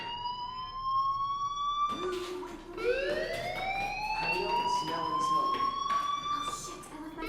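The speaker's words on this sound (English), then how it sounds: "do you hear that fire alarm?" A fire alarm from the video game Life Is Strange sounds as a loud, repeating electronic siren with rising wails and steady tones, running continuously.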